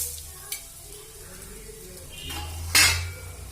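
Coriander seeds, chana dal and urad dal dry-roasting together in a pan, with a soft background sizzle, a clink near the start and a louder scrape of a spoon against metal near the end, no talk.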